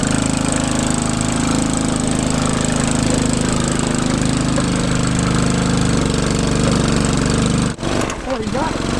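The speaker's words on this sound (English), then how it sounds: "We did a creek crossing in a Wal-mart tractor." A cheap Wal-mart lawn tractor engine drones loudly and steadily up close while crossing a creek, with a brief splashing disturbance near the end.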